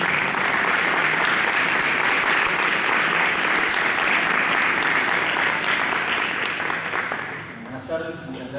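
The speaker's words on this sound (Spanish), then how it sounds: "Lo recibimos con un fuerte aplauso." An audience at a talk on Benedict XVI and the essence of the apostolate claps steadily and loudly for a speaker being welcomed, a dense sustained applause that thins and fades out near the end.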